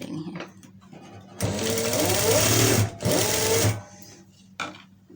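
A sewing machine runs close by in two steady bursts of rapid whirring stitches, separated by a brief pause and framed by quieter handling noises, as it sews folded fabric triangles for a blouse latkan.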